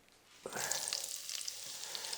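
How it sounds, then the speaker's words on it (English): Vegetables for a vegan autumn stew sizzle and crackle steadily in a hot pan after a soft start, close and fairly quiet, with no talking. "Listen to a sizzle, sizzle, sizzle, sizzle."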